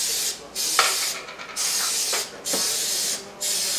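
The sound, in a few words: cooking spray sprayed into popover pan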